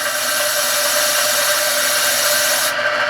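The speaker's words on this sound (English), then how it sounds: "this allows it to deburr these little shavings. You just turn it on, follow the grooves" Key deburring machine running as a freshly cut key is smoothed against it, giving a steady bright whirring rasp that holds evenly, then drops in its highest tones near the end.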